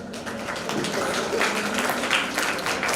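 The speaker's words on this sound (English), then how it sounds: "I think we can clap a bit louder." Steady applause from an audience at an A Level graduation ceremony, a continuous wash of many hands clapping at even volume.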